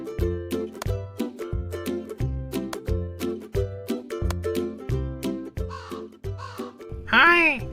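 Cartoon crow in a thirsty-crow story cawing loudly near the end, a rising and falling cry over a steady rhythmic background music beat.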